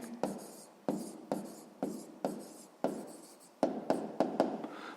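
A pen writes numbers by hand on paper for a sixth-grade math exercise, in a series of about ten distinct scratchy strokes, close and alone, with no talk.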